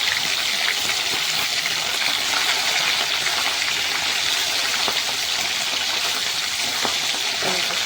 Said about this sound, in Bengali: এই যে দ্বিতীয় দফায় মাছ ভাজা চলছে